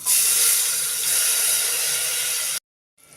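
Tomato pieces dropped into a hot pan of oil with turmeric and asafoetida for mung dal, giving a loud, steady broadband sizzle that cuts off abruptly near the end, then briefly resumes faintly.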